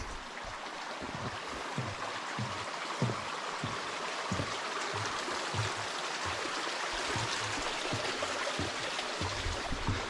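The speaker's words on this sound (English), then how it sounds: "But it is a creek nonetheless." A creek flows steadily and close by on a hike near an abandoned homestead and mineral springs, its water rushing as a continuous, fairly loud wash with no voices.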